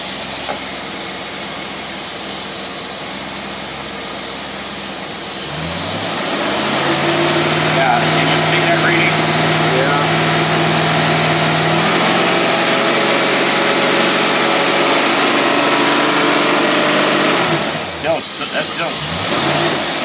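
A car engine fitted with a Carter AFB carburetor, the rear of two four-barrels, idles roughly and then revs up to a loud, sustained higher speed. It drops back near the end while voices talk faintly in the background.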